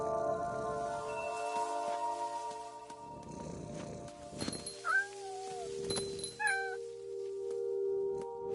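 Cat meows in a video game, a couple of short rising calls around the middle over a steady synthetic ambient bed with low rumbling passages, fairly close and clear.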